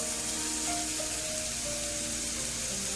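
Beans, cabbage, capsicum and spring onion sauté in a hot pan for Schezwan fried rice, giving a steady close sizzle with faint tonal clatter, no talking.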